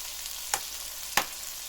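A steady close hiss of peppers sizzling in a hot pan, with two faint clicks over the frying.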